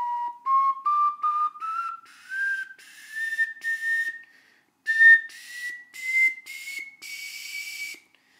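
A glazed ceramic ocarina with a flawed voicing and firing plays a slow rising sequence of clear, airy whistled notes, each held briefly with a short pause, slightly breathy, alone and close.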